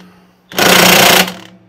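A half-inch impact wrench hammers at a lawnmower bolt in one loud, rapid rattling burst lasting under a second, close up, with no talk.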